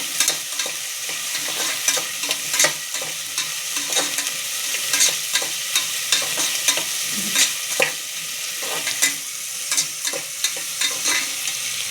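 Onions and tomato fry in a pan while being stirred, a steady bright sizzle under frequent scraping clicks of the spoon, close and continuous with no voices.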